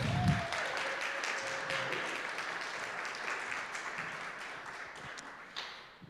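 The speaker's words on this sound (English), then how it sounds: "Can we get a round of applause for all of our actors?" Audience applause for the actors after a Hanukkah play, Hershel and the Hanukkah Goblins, a steady wash of clapping from a congregation lasting several seconds before tapering off, with a brief voice near the start.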